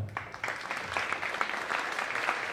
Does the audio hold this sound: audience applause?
yes